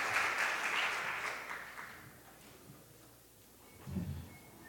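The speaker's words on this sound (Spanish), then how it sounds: "Le damos un aplauso al señor Reyes." Audience applause for a speaker at a talk, starting fairly loud and thinning out over a couple of seconds into quiet room tone, followed by a brief muffled knock or shuffle.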